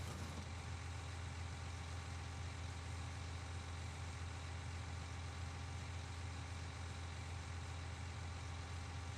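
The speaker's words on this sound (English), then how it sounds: "It is a bendy tractor" An articulated bendy tractor engine idling in a farming game, a constant low rumbling drone that holds steady and fairly loud throughout with no speech.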